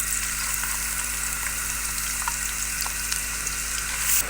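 Ginger garlic paste sizzles in hot strained oil, a steady, loud frying hiss with faint crackles throughout and no talking.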